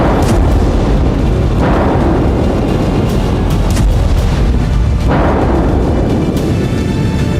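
Explosions from a Ukrainian suicide drone strike inside Russia, with dense, loud booming and rumbling throughout and two heavier blasts that swell out of the roar.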